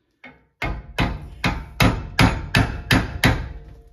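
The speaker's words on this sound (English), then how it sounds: "It's hindering my hammering." A hammer strikes wood repeatedly to drive out a tool handle, giving one light tap followed by seven loud, evenly spaced close blows, each with a short ringing decay.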